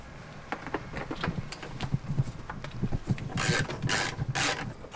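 Rapid, uneven clicking of a ratchet removing T30 bolts from a 2017-2020 Honda CR-V rear bumper, worked in short bursts, close by, with a few sharper hissing scrapes near the end.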